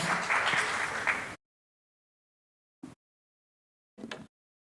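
Audience applause welcoming a speaker onto the stage at a French tech conference, a dense burst of clapping for over a second that stops abruptly, followed by two short faint sounds.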